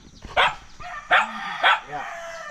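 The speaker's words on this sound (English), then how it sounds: "And he's got the usual kind of dogs and chickens." Dogs at a rural house in Sulawesi, Indonesia, give three sharp, close barks spaced about half a second apart, with a softer yelp trailing off at the end.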